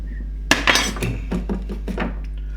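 A tool scrapes across a watercolour painting, with a sharp scratchy stroke followed by several shorter rasping passes, close and fairly loud over a steady low hum.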